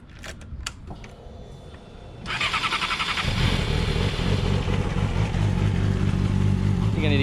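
A motorcycle's engine catches after a few quiet clicks and settles into a loud, steady warm-up idle with a rough, pulsing rumble that continues to the end.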